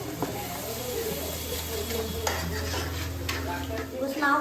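Masala and onion paste fry in a pan, made for a fish curry, with a low steady sizzle under repeated spoon stirring and occasional metallic clinks against the pan.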